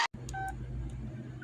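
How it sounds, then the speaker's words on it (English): Verizon ringback tone on a 2000s cell phone: a short pair of steady electronic beeps, then a faint blip, over a low hiss of line noise after an abrupt click at the start. "Please enjoy this Verizon ringback tone while your party is reached."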